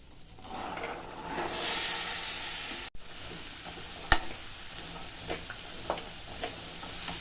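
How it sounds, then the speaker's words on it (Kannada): Boiled chickpeas frying in a pan for a chickpea sundal, a soft steady hiss of oil with occasional spatula taps and one sharp knock, close but fairly quiet, with no talking. "ಚೆನ್ನಾಗಿ ಒಂದು ಫ್ರೈ ಮಾಡ್ತಾ ಇದ್ದೀನಿ ಒಂದೆರಡು ನಿಮಿಷ ಚೆನ್ನಾಗಿ ಫ್ರೈ ಮಾಡಿದ್ದೀನಿ"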